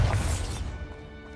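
Bombarda blasting spell striking in Hogwarts Legacy, a loud crashing impact burst with heavy low thump that quickly decays into a fading rumble, no talking.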